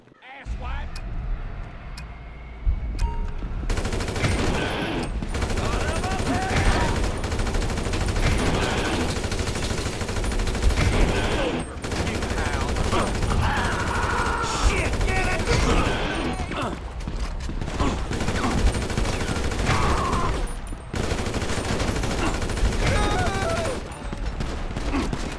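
Dense, continuous gunfire from a GTA 5 rampage mission against rednecks, with bursts of shots packed together over loud game noise and frequent shouting voices throughout.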